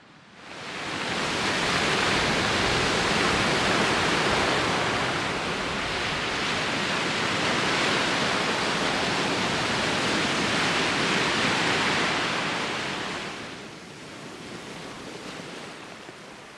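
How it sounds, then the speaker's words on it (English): Waves roll onto a beach near Old Kiess Castle as the tide comes in, a loud, continuous broadband surf wash lasting over ten seconds before easing slightly, with no voices. "capture those waves as they were coming in"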